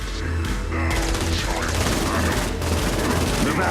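Battle gunfire in the video game Saints Row: Gat out of Hell crackles in dense rapid bursts with booming impacts, loud and continuous, while a voice speaks over it.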